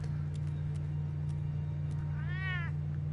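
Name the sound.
cat meowing in Telltale's Batman video game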